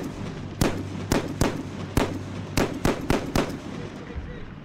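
An M107 .50 caliber semi-automatic rifle fires about ten sharp, loud cracks in irregular succession, each with a short echoing tail, at a shooting competition.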